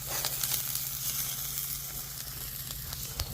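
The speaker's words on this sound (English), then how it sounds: "I'll let the green onions cook up" Green onions sizzle in a hot pan, a continuous close frying hiss with small crackles and occasional pops, no talking.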